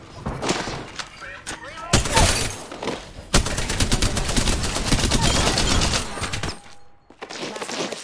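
Heavy gunfire in the shooter Apex Legends while playing Wraith, with dense bursts of automatic fire and sharp single shots, loud and close, separated by brief gaps and mixed with in-game voice lines.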